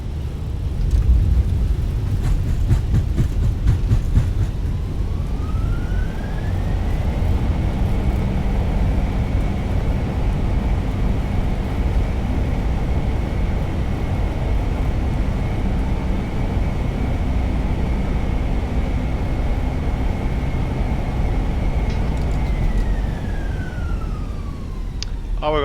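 Airplane rolling out on a runway in Microsoft Flight Simulator 2020, a steady loud engine rumble with a rising whine early on that holds for a long stretch, then falls away near the end.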